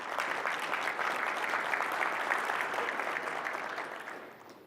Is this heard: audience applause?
yes